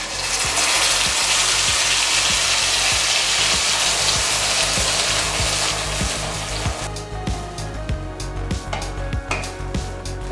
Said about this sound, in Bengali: তেলটা একটু গরম করে নিয়ে এতে মিশিয়ে দেব তৈরি করে রাখা এই মিশ্রণটি